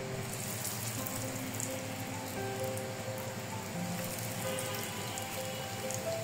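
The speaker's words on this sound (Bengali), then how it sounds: "তো আমি এখন তেল দিয়ে কিছু ভেজে নিব আপনাদেরকে দেখানোর জন্য" Raw chicken nuggets frying in deep oil, giving a constant, even crackling sizzle throughout at moderate loudness with no talk.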